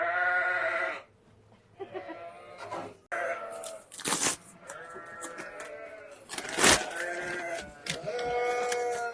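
Sheep bleat repeatedly on a sheep farm with a large flock of ewes, loud, close calls overlapping one another with brief pauses between bursts.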